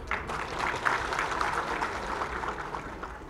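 A crowd at a BJP joining event at Bajpayee Bhawan gives the chief minister a round of applause, a steady, moderately loud patter of many hands clapping that continues evenly throughout.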